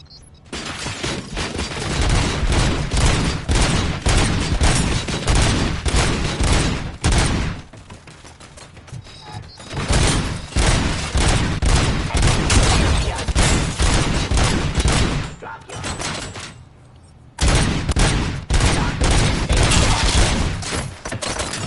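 Rapid bursts of video game gunfire fill the scene, loud and dense with dips into quieter gaps between volleys, with mechanical clatter mixed in.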